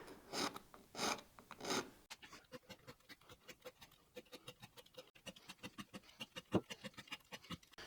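A metal file rasps over the fret ends of a scratch-built Telecaster-style guitar with a fabric top, in quick, faint, close strokes. A few slower strokes come first, then a long run of short, rhythmic passes.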